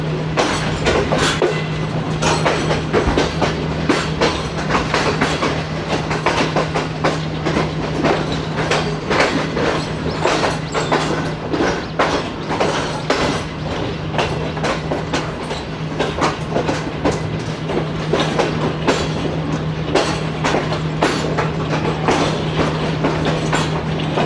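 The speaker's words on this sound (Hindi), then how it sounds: "सामने से आई थिंक नारोवाल पैसेंजर आ रही है।" Narowal passenger train approaching on a rough, poorly kept railway line in Pakistan during rain, with steady loud clickety-clack of wheels over rail joints and a continuous rumbling hum throughout, no voices.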